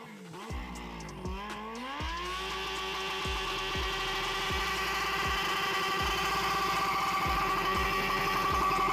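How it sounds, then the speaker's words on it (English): A Suzuki Katana motorcycle freshly fitted with a swapped engine is revved up for a burnout, its engine climbing from idle into a loud, sustained roar with rhythmic pulsing throbs, close and building steadily. "the first thing that I would do after making sure my bike was running is do a burnout."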